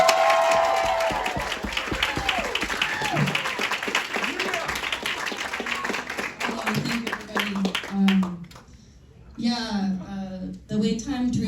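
An audience at a stand-up comedy show claps and cheers as a comedian is introduced, a moderate burst of applause that fades within a few seconds, with a voice speaking over and after it.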